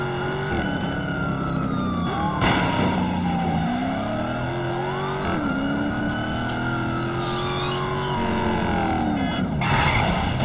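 A police car siren wails in a Gangster Vegas video game, rising and falling continuously over engine drone and tire noise from cars, loud and near throughout.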